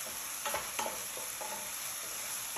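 A spoon stirs chicken risotto in a pan, making a few soft scraping strokes over a steady low sizzle.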